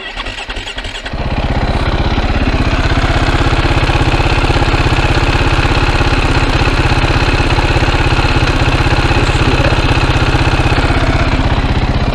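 A supermoto motorcycle engine catches after a short crank and settles into a loud, steady, rapid idle that continues evenly to the end, with no talking over it.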